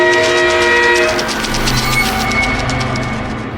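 A train from the Choo Choo Charles video game draws near, a loud sustained whistle or horn blaring over dense rumbling and clattering, with no voices heard.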